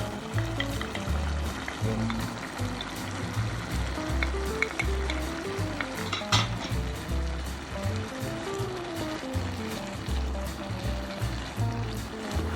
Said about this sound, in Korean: 이제 여기다가 채소들을 넣고 같이 또 한번 볶아주도록 하겠습니다.